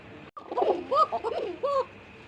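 A pair of Bashiraj pigeons coo in short, soft bursts close by, several throaty notes in quick succession with brief pauses between them.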